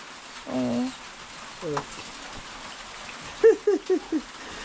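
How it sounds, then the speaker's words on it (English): Steady rain falling outdoors, a soft continuous hiss, with a few short voiced calls and a quick run of four bursts rising above it. "today it's raining, man"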